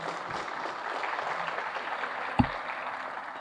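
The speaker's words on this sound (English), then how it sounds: "How about another round of applause for Mayor Ochoa?" Banquet crowd applauding the mayor at a firefighters' awards dinner, a steady wash of many hands clapping at moderate distance, with a single sharp knock partway through.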